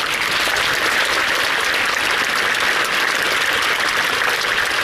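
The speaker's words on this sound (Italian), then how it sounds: "Un applauso alla Madonna." A congregation at a church celebration closing the month of May devoted to the Madonna claps in steady, dense, loud applause that fills the whole stretch without talk.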